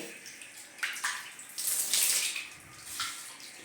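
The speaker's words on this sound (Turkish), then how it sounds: "Şimdi suyu açıyorum." A tap runs water to rinse tiles after a water-spot cleaning, a close splashing gush that swells and surges in uneven bursts over a few seconds.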